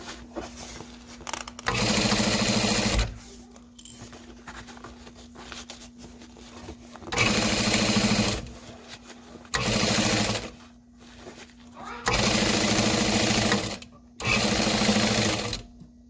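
A sewing machine reinforces the stitching on a Phoebe backpack, running in four loud, close bursts of rapid chattering stitches separated by quieter pauses that carry a low steady hum.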